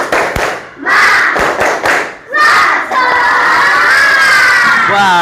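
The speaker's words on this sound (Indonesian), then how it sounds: "coba kita tepuk semangat dulu ya" A classroom of children performs a rhythmic spirit clap led by their teacher: several sharp, loud clap bursts in a pattern, followed by the children's shouted chant.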